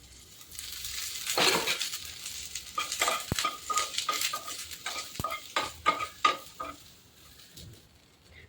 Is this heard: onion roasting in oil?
yes